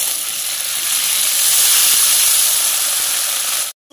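Water poured into frying mustard-poppy paste in a pan gives a loud, steady, broad sizzling hiss that swells slightly midway and cuts off abruptly near the end.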